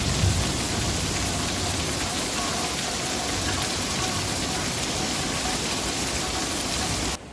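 Heavy pouring rain outside a cottage, a loud dense roar of rainfall hammering steadily without a break before it cuts off abruptly at the end.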